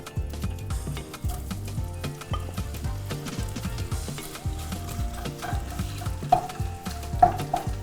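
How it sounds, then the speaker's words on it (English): Shrimp sautéing in vegetable oil for a vegetable chicken curry, a steady sizzle with frequent utensil stirs and scrapes against the pan, close and fairly loud, a few sharper clinks near the end. "So I'll saute the shrimps first."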